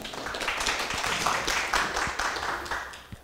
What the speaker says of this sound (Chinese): 请掌声欢迎，谢谢。